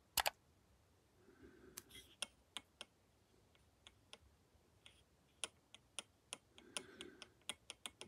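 Sharp mechanical clicks from the pinion and spur gear mesh of an Arrma 6S RC car, irregularly spaced over several seconds, close and fairly quiet, with a couple of faint murmurs in between.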